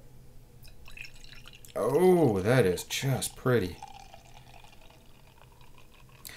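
Friek lambic beer poured from a freshly opened bottle into a glass, a close liquid fill with splashy trickling that runs steadily while someone speaks briefly over it.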